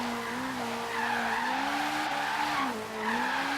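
Sustained tire squeal from a car drifting in Forza Horizon 3, loud and continuous with wavering pitch as the rear slides, engine roar underneath and no talking.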